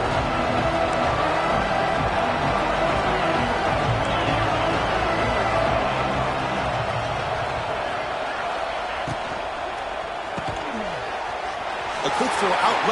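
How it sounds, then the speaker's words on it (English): A football stadium crowd roars loudly and continuously to urge on the defense, a dense wall of cheering and noise that holds steady and swells near the end, with an announcer talking over it. "This crowd is trying to inspire this defense to make a big red zone stop."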